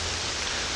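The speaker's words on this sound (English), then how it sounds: "It's raining today." Steady rain falls outdoors in Michigan, a soft, even hiss of drops that runs unbroken through the short moment with no voices.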